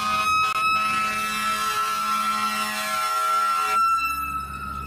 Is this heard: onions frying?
no